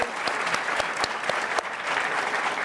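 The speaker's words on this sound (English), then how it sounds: "Let's have a round of applause for the speakers." A room full of people at a Bitcoin conference in Bulgaria claps for the speakers, dense and continuous applause, close and lively throughout.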